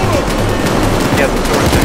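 Rapid gunfire rattles in Payday 2 as players shoot at a Bulldozer enemy, a dense loud burst of shots lasting under two seconds with voices faintly underneath.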